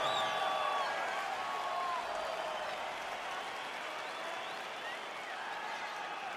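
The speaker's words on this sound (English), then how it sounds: "crowd getting excited as this fight gets underway" A UFC arena crowd roars and applauds as the fight begins, a dense, steady wall of cheering and clapping that eases only slightly over several seconds.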